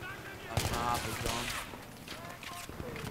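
Rapid bursts of Battlefield 3 gunfire crackle through the clip, with scattered shots and volleys over a busy background while a voice talks in the mix.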